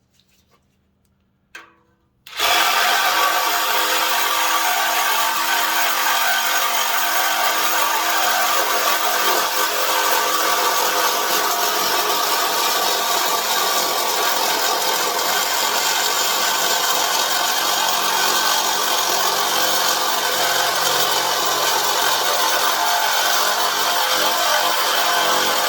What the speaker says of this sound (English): I'm going to show you how fast it cuts through exhaust tube